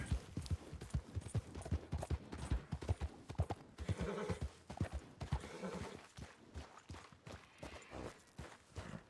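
Horse hooves clip-clopping at a walk with a whinny partway through, in Red Dead Redemption 2, fairly close but quiet, with a faint voice at low level.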